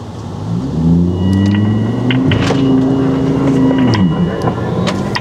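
An off-road car engine pulls away from a standstill, its loud, close rumble rising as the throttle opens and then holding a steady, strained drone over bumpy ground.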